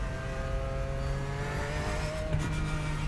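Race cars running on a track in the iRacing sim, a steady droning engine tone held at constant loud level throughout, with a slight shift partway through and no talk.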